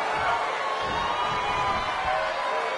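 Crowd at a wrestling match giving a steady, distant roar of cheering and murmuring, even in level throughout.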